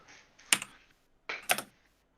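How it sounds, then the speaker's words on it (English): Two short bursts of clacky key presses come from an IBM Model M keyboard, loud and close with a pause between them. "Sounds like a Model M keyboard."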